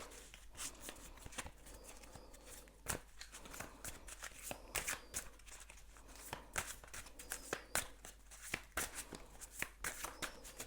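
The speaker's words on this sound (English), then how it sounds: "going to shuffle a little bit more." A deck of tarot cards being shuffled close up, quiet riffling and flicking bursts with soft irregular snaps, faint overall.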